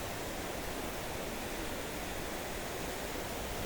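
A powerful waterfall in Wales roars as a steady, dense broadband rush, constant and loud throughout with no pauses or voices.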